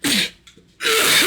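A single person coughs hard in two loud, raspy bursts separated by a short gap, the fits brought on by laughing.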